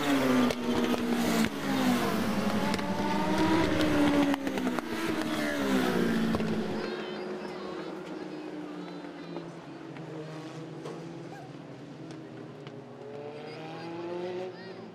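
Legends race cars circling a short oval speedway, engines snarling and rising in pitch as they pass, loud at first then fading into a distant drone as the field moves away, with an announcer calling the race over it.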